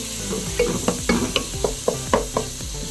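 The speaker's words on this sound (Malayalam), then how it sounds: "ഞാനൊരു 4 ചെറിയ തക്കാളി ചെറുതായിട്ട് അരിഞ്ഞത് ഇതിലിട്ട് നന്നായിട്ട് നമുക്ക് തക്കാളി ഉടച്ചെടുക്കുന്ന രീതിയിൽ വഴറ്റിയെടുക്കാം" Chopped small tomatoes sizzle in a pan as they are sautéed and mashed for tomato rice, with rhythmic spoon scrapes and knocks against the pan over a soft frying hiss, close up with some faint background tones.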